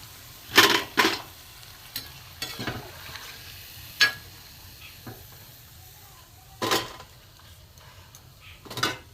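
Small mung dal fritters (bora) being lifted out of frying oil, with a faint steady sizzle underneath and a few sharp, close clinks and scrapes of a utensil against the pan at irregular intervals.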